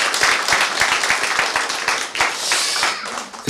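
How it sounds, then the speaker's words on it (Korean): Church congregation clapping together after a prayer, a fairly close, rhythmic burst of hand claps with distinct individual strikes, steady at first and then loosening before a brief final flourish. "자, 우리 박수 한번 치겠습니다"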